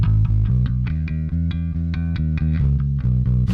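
Bass guitar played alone with a slight buzzy distortion, a steady run of repeated low notes with gritty overtones, loud and close, with no mixing applied.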